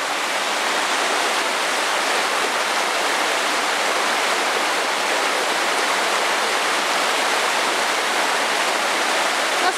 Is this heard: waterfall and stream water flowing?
yes